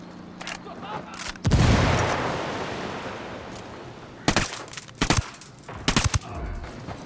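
Automatic gunfire erupts in the Ghost Recon Wildlands video game as several short bursts and single shots, with a long rolling blast and echoing noise between them and no talking.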